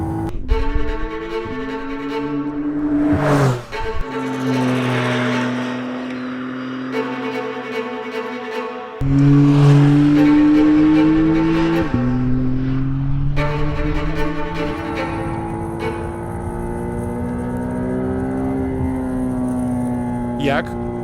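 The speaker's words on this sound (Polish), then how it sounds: "On się kręci do ponad 8000 obrotów." McLaren Artura engine revving hard toward 8,000 rpm, its pitch climbing and dropping through repeated gear-like steps, loud and close, with someone speaking over parts of it.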